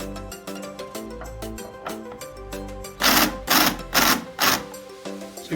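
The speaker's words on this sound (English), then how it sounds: "So you can hear the clutch is disengaging and no longer allowing it to screw in" A power drill whirs in uneven bursts while driving a screw, then a louder ratcheting clatter repeats several times as the drill's clutch slips, close and loud.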